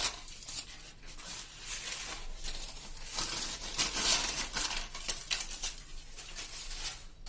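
Crisp, oil-free baked homemade potato wafers rattling and crinkling as they are shaken in a vessel, a dense, continuous dry clatter with rising and falling bursts, close and fairly loud.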